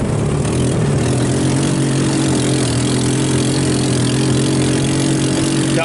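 Salvaged off-road go-kart engine running steadily and loud throughout while the kart does donuts on a front pasture lawn, a continuous mid-pitched drone with slight revving and no talk.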